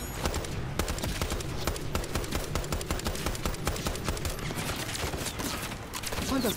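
Rapid bursts of automatic gunfire in Call of Duty: Modern Warfare 3 crackle continuously, dense and loud, with sharp repeated shots and no break throughout.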